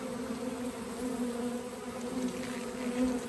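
Honey bees buzzing at an apiary in June, a continuous close drone of many wings with a steady hum that barely wavers, heard alone without talk.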